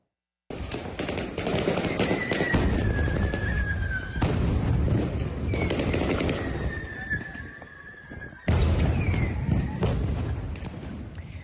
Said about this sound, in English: you hear the gunshots, you hear what's happening, there are explosions